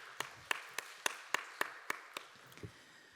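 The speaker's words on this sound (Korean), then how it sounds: "박수를 격려하도록 하겠습니다." At a youth Sunday worship service, a congregation claps in a slow, even unison rhythm, about eight faint, evenly spaced claps, with a soft thud near the end.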